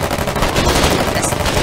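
Rapid machine gun fire in the war game Foxhole, a dense sustained burst of overlapping shots that fills the whole stretch loudly with no pause.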